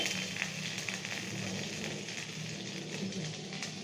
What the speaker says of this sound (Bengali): এর মধ্যে মা দিচ্ছে জিরে ফোড়নে জিরে